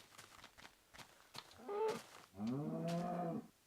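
A cow moos in a video game, two harmonic lowing calls close up, a short one followed by a longer, louder drawn-out moo, after some soft clicks and faint talk-like sounds.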